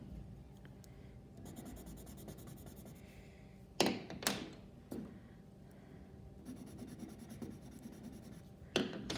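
Colored pencils swatch on paper in bursts of dry scratchy scribbling, separated by quiet gaps and a few sharp taps as pencils are set down or picked up, close and fairly soft.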